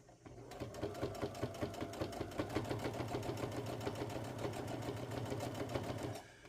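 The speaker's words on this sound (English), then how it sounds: "So you will hear the sewing machine." A home sewing machine runs steadily for about six seconds, its needle pounding out a fast, even rhythm that starts and stops abruptly, loud and close with no talking.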